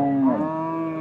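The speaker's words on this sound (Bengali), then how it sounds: "গরুর ডাক, মানুষের ভিড় আর হাটের কোলাহল সব মিলে এক জমজমাট পরিবেশ।" A single cow lets out a short, loud moo close by at the Aftabganj cattle market in Bangladesh, a brief drawn tone with no talk over it.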